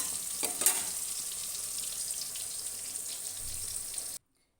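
Stinging catfish (singi) frying lightly in hot oil in a wok, a steady close sizzle with a few brief crackling pops, ending abruptly in silence.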